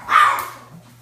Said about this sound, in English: the dogs have to be loud